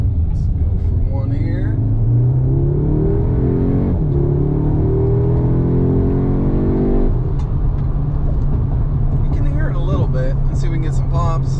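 An Audi S3 8Y with a resonator delete revs and accelerates, its deep exhaust rumble rising and falling loudly up close. A voice talks over the engine in places.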